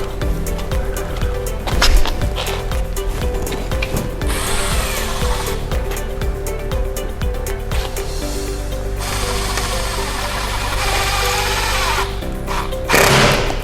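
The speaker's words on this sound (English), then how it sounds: "Now we're going to put the 4 screws in there, 1 in each corner." A power drill drives four screws into a roof to mount a solar gable fan, with bursts of loud whirring and buzzing close by, plus clunks and brief pauses between runs.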